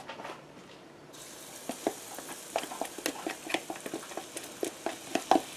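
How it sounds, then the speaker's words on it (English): Batter poured into hot Crisco in a skillet sizzles and crackles, a steady close frying hiss dotted with sharp pops that grows busier as it settles, with no talking. "You hear that sizzle?"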